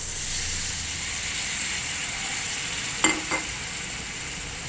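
A steady sizzling hiss from a hot pan on full flame, with a couple of brief sharper crackles partway through as vinegar is poured in while making anchovy pickle.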